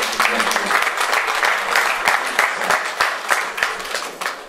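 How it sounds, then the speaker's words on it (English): An audience at a dinner party in honour of a barrister claps together, close and lively, with a few sharp individual claps poking through before it tapers off near the end. "A round of applause for this occasion."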